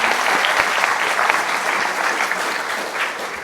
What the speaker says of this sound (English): Can we give a big round of applause to Brett?